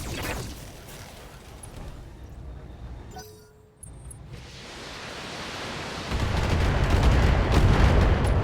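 Mech weapons fire in the BattleTech video game, a dense roaring barrage of broadband blasts that drops out briefly midway, then swells louder and heavier toward the end.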